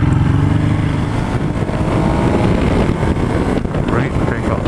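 A Ducati Hypermotard motorcycle is ridden on the road near Concord, California, with its loud engine rumble steadily buried in heavy wind buffeting against the microphone.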